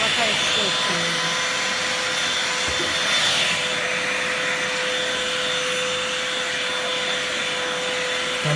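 Bosch GAS 18V-1 cordless 18-volt vacuum cleaner running steadily with a constant whining motor drone and airflow hiss, close and loud throughout.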